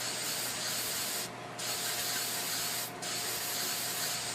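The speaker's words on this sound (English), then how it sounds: "spray it on all around on just the foliage" Aerosol spray paint hisses steadily onto miniature model tree foliage in long continuous bursts, with two brief pauses between them, close and fairly loud.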